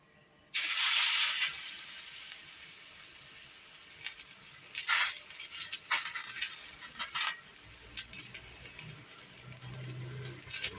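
Bread dipped in omelette batter sizzles on a hot oiled pan, a sudden loud hiss as it lands, then softer crackling with occasional bursts.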